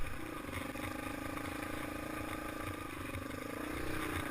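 A Yamaha XT225 motorcycle rides a wooded trail in early spring, its engine giving a steady, close drone that holds throughout with a slight rise near the end.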